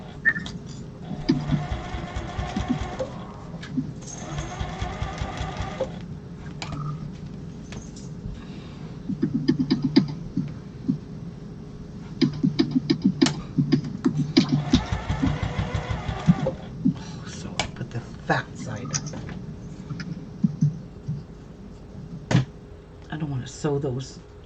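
A sewing machine stitching quilt blocks, running in several bursts of rapid mechanical whirring and clatter with pauses between, close and moderately loud, with people talking at times.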